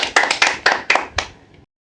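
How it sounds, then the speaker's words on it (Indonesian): Audience at an Indonesian talk show claps in about five short bursts of hands, close and fairly sparse, fading out after a second and a half. "Boleh kasih tepuk tangan dulu dong."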